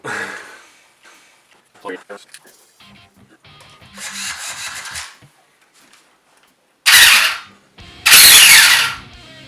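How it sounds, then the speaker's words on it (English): A Traxxas Rustler RC car's spur gear, badly meshed, grinds in two short, harsh rasping bursts as it is spun by finger, following quieter handling noises and someone talking. "That sounds like a spur getting ready to explode."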